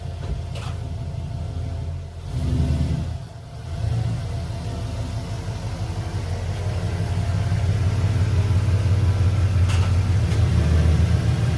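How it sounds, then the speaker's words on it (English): A 1994–1996 Chevrolet Impala SS V8 runs close by as it backs out of a garage to warm up, a steady low rumble with a brief dip and swell, then a fuller, louder drone. "We're going to back the Impala out. We're going to let it heat up, get up to operating temp"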